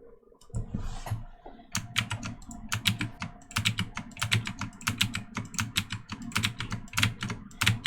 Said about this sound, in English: I hear the clicking, which means she's copying and pasting